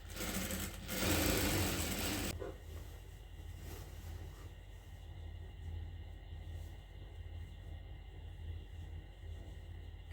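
A sewing machine stitches the side seam of a kurti top, a short loud burst of running for about two seconds, then drops to a faint, low steady hum.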